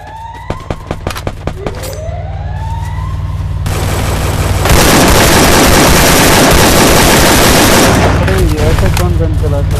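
Gunfire in the video game Free Fire, with sharp single shots followed by a sustained loud burst of rapid fire that fills the second half, close and overpowering.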